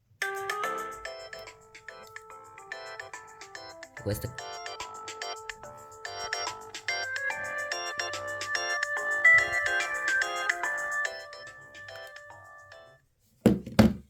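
A ringtone melody plays through the small loudspeaker of a 2015 iPhone 6S, bright chiming tones repeating in a steady rhythm for about twelve seconds, broken by a brief thunk and a short spoken phrase near the end.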